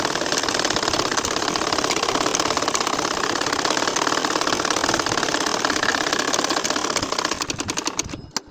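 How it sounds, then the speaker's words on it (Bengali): Sewing machine stitching a line on a nakshi kantha quilt, a steady, fast mechanical whir and rapid needle patter running continuously and fairly close, then tapering off at the very end. "এখন আরও একটা লাইন আমি তোমাদের সেলাই করে দেখাচ্ছি"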